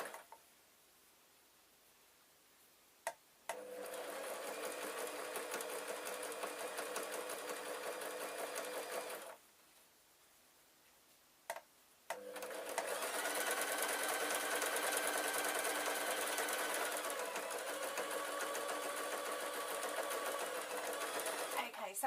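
A sewing machine stitching a pincushion, running in two long, steady whirring bursts separated by a short pause and a couple of clicks, close and even, with quiet talk in the gaps.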